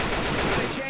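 A rapid burst of automatic gunfire from the co-op zombie shooter Left 4 Dead 2 on the Cold Stream campaign, a dense, loud, continuous rattle lasting under a second.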